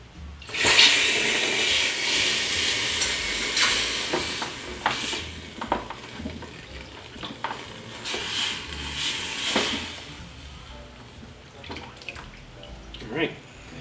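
A loud hiss and bubbling sizzle as cherry-red steel is quenched in a bucket of water, fading into gurgling and crackling that trails off over several seconds.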